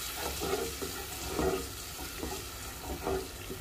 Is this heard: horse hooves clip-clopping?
no